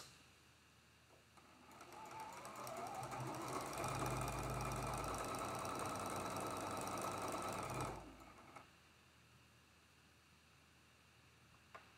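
A sewing machine runs in one steady, continuous burst of stitching for about six seconds while quilt block pieces are joined, then stops, leaving a quiet room.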